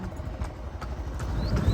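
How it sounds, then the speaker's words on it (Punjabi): Quick, light hoof clip-clops of three mares walking on a hard surface, heard over a low rumbling background noise. "ਤਿੰਨ ਘੋੜੀਆਂ ਕੱਢੀਆਂ ਨੇ ਇਹਨਾਂ ਦੇ ਚੱਲਣ ਡਿਆ ਕੰਮ ਜ਼ੋਰੋ ਜ਼ੋਰ"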